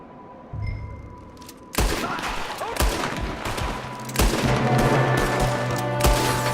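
Gunfire erupts from a window in Red Dead Redemption 2, with sharp, loud shots cracking out in bursts amid a shootout, several close reports punctuating a busy din of weapons fire and commotion, with occasional voices.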